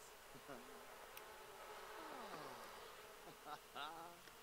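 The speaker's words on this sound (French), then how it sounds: "Ruche pleine, abeille active, abeille agacée." Bees buzz around a beehive in The Sims 4, a soft, continuous insect drone with wavering, rising and falling whines as individual bees fly close, fairly quiet and steady with no talk over it.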